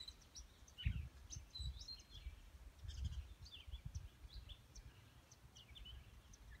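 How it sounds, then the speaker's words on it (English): Birds chattering along the Appalachian Trail near Rock Springs Hut, faint scattered chirps and tweets over low rustling and wind, distant and quiet. "listen to the birds just chattering"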